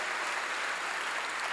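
A church congregation applauding together, a steady wash of clapping that runs evenly through the whole moment without pause or talk.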